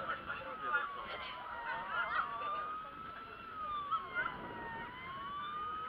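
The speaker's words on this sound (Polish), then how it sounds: "następuje wyłączenie syreny na jednostce strażackiej" A wavering electronic siren tone from a model fire boat at a floating-model show rises and falls steadily, fairly faint and thin, with no voices over it.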